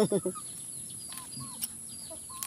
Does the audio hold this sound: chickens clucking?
yes